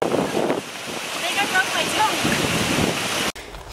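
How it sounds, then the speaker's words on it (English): Steady broadband rush of falling water at Big Rock Falls in the Belize jungle, with wind buffeting the microphone, loud and close, cutting off abruptly near the end. "We're right over a waterfall. You can hear it right now."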